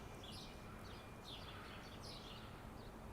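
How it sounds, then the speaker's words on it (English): Birds chirp in spring park trees at the bottom of some steps in Auckland's Karangahape Road area, several faint distant calls repeating over steady outdoor background hum. "Love hearing the birds, yeah."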